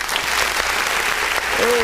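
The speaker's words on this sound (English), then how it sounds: "Let me just hit that clap button for a second right there." A clap-button sound effect plays a burst of crowd applause, loud and steady for about two seconds, with a voice briefly over it near the end.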